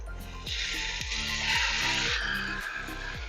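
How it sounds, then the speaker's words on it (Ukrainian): Meat for Georgian ojakhuri sizzling loudly in a hot frying pan over high heat, a bright steady hiss with repeated low knocks and clatter from stirring or tossing. "Коли сковорідка розігрілася, висипаємо наше м'ясо."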